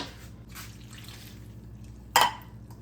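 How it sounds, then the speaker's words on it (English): A single sharp splash and sizzle as roughly a quarter cup of water hits taco-seasoned ground meat cooking in a pan, a short burst over quiet kitchen background. "I'm actually going to add a little bit of water and then cook it off."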